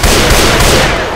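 A single loud, close gunshot blast in Left 4 Dead 2 during a Mall Atrium run, broadband and sharp, with a brief decaying tail filling the short moment.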